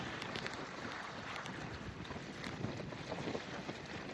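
Wind gusts over a lakeside beach, a loud, steady broadband roar buffeting the microphone throughout with slight surges, and no voices.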